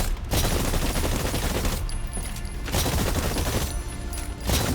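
Rapid futuristic gunfire rattles in the video game Exoprimal, dense overlapping bursts firing at targets in long loud volleys broken by short pauses.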